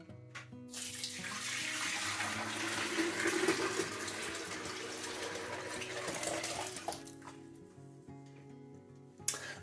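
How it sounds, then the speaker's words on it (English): Homebrewed ruby ale wort is poured through a nylon straining bag into a fermenter, giving a steady, close splashing and trickling of liquid that runs for several seconds and then tapers off. "we need to strain the wort before we put it in the fermenter"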